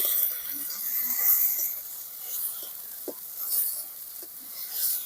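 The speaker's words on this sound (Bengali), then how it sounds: "আদা আর জিরে বাটা দিয়ে দেবো শুকনো লঙ্কা বাটা এই মশলাগুলো ভালো করে কষিয়ে নেব" A ginger, cumin and dried chili paste sautés in a pan, giving a soft, steady high sizzle and hiss with occasional faint stirring clicks, quiet and close, with no voices.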